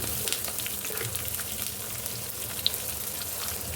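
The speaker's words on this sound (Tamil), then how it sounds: "இப்போ பாருங்கள், வெங்காயம், பூண்டு இது எல்லாமே வந்துட்டு நல்ல எண்ணெயிலே வந்துட்டு நம்ம வதக்கி விட்டுட்டோம்" Onions and garlic sauté in hot oil for a garlic-pepper kuzhambu, giving a steady close sizzle with soft stirring crackles throughout, no voices.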